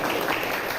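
Classroom applause from a group of students, a brief burst of dense, steady clapping at moderate loudness.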